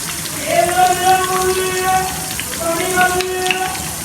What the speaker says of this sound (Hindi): तो चलो इनको फ्राई करते हैं